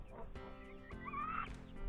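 Chickens cluck and call softly nearby in a few short, quiet bursts.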